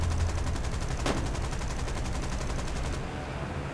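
Sustained rapid gunfire from War Thunder combat, a dense continuous burst of shots with one sharper crack partway through, loud throughout before easing slightly near the end.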